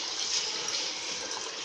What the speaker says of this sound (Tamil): அடுத்து தேங்காய் பால் சேர்த்துக்கலாம்